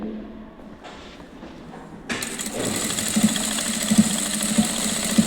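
An electric sewing machine starts up and runs steadily while stitching the last line of cross tucks in fabric, a close whirring hum with light rhythmic ticks after a quiet opening.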